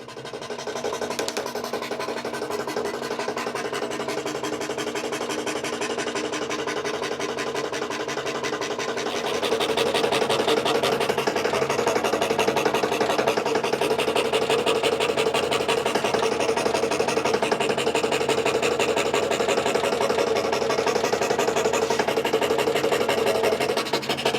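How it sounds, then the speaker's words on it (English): A scroll saw cuts dragonfly and zinnia shapes from wood for a whimsical lamp, giving a steady mechanical buzz that grows louder about halfway through and continues without talk. "Then in that area I can cut them out with the scroll saw."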